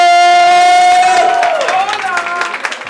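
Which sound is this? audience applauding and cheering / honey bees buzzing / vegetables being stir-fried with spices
audience applauding and cheering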